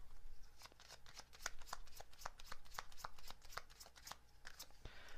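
Oracle-style message cards being shuffled by hand for a reading, a quick run of close crisp riffling flicks, fairly quiet and without speech.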